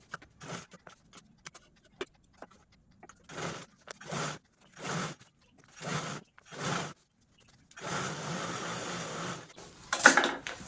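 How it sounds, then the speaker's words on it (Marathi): A sewing machine topstitches along a zipper in short separate bursts of whirring stitching with quiet pauses between them, ending in a longer continuous run close by. "या झिपवरती आपल्याला अशा प्रकारे दापटीप पण देऊन घ्यायची आहे"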